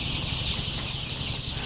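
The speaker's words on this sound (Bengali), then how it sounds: "এই যে আমাদের বর্তমানে 17 দিন বয়সের টাইগার মুরগির বাচ্চাগুলো দেখছেন" Seventeen-day-old Tiger breed chicken chicks in a lit brooder, many high thin peeps chirping continuously and close over a steady low hum, with no talking.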